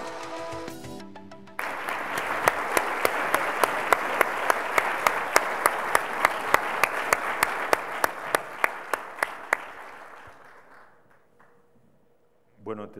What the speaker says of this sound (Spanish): Recibamos con un gran aplauso al reconocido historiador, Enrique Krause.